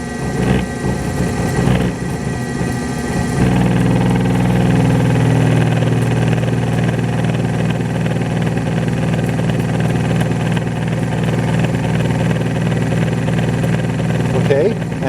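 A lab motor, its field voltage raised from 70 to 100, whirs and hums steadily at higher speed after an uneven start. The drone is loud and continuous, with a few faint clicks near the end.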